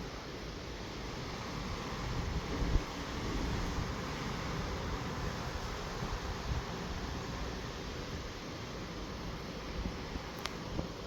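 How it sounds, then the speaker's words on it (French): Strong wind roars steadily during an extreme thunderstorm in Gironde, a dense, constant rush buffeting the microphone for the whole stretch, with no voices. "Oh, le vent!"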